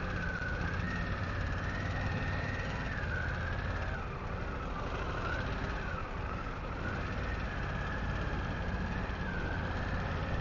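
Harley-Davidson CVO Pan America motorcycle engine on a test ride: a steady, close droning roar whose pitch slowly rises and falls with throttle changes, with no voices.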